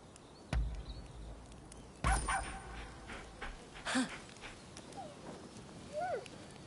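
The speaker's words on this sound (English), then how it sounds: "if you see someone else's pilgrim dog, take care of it" A dog in the game Rise of the Ronin gives a few sharp barks, then soft whimpers and high whines, close and fairly quiet.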